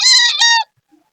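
Chickens at a poultry market in Bocaue, Bulacan give two loud, close clucking calls in quick succession, then fall silent.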